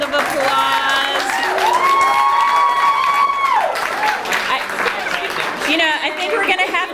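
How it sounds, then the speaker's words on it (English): A crowd at a high-school story slam applauds and cheers for the storytellers gathered at the microphone. The clapping is dense and steady, with whoops and voices mixed in throughout. "let's give them a round of applause"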